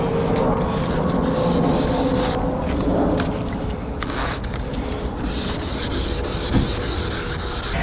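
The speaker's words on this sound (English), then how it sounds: "Wet sanding is finished" Steady, continuous rubbing and scraping of abrasive paper over an auto body panel of an RV, a dense wet sanding hiss that carries on without pause, close and fairly loud.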